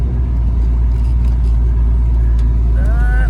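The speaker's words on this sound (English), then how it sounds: "Good acceleration. Hear a little bit of lag when my foot's really in it," A 1967 Ford Mustang convertible with a 5.0 engine and five-speed manual accelerates on the road, its steady low rumble filling the cabin, with a brief rising whine near the end.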